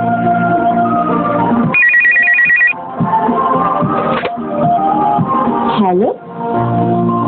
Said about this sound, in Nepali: हेलो ए रोहित छ आइसा तिम्रो फोन